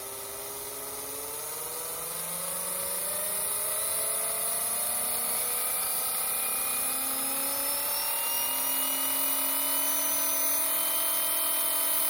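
A Viper V Spec engine runs at a high, steady whine that climbs gradually in pitch, buzzing with sustained overtones, fairly faint and alone without voices.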